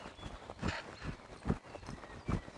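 A horse ridden in a volte, its hooves clip-clopping in a steady walking rhythm of three or four soft thuds, fairly close and quiet.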